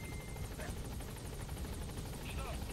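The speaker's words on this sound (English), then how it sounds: "where's my helicopter? There it is." An in-game helicopter in Metal Gear Solid V: The Phantom Pain gives a faint, steady rotor whir and rumble that holds throughout, with a voice speaking over it.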